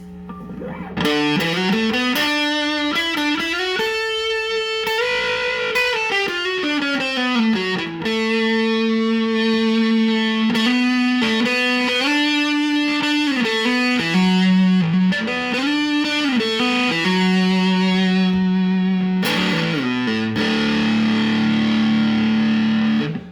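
A distorted electric guitar played through a fuzz pedal, sustained gritty notes and chord changes ringing loud and continuous throughout.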